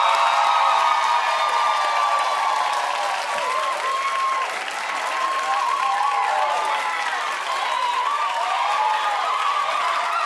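A studio audience at a television talk show claps and cheers continuously, loud and sustained for about ten seconds, with scattered whoops and shouts rising over the dense applause.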